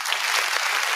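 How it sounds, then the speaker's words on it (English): A short burst of recorded applause played by a DJ on a morning radio show, steady and fairly loud clapping with no talking over it. "Give me a clap for that"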